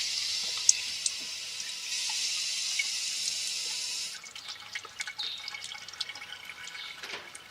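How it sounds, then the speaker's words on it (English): Water pours steadily into a bottle, a soft continuous hiss that shifts pitch partway through, followed by scattered drips and small splashes, fairly quiet with no talking. "Fill her up with water."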